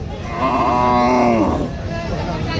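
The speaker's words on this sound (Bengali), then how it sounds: "ভাই কি গরু নিয়ে আসছেন" A cow lets out one loud, close, drawn-out moo at a busy Sunday cattle market, rising and falling over about a second, with crowd murmur and a voice in the background.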